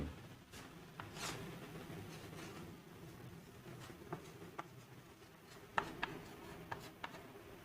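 Pen writing a Bengali word on paper, heard as faint, sparse scratchy strokes and small ticks in a quiet room.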